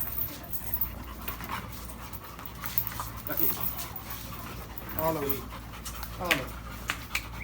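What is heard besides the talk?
Labrador dog panting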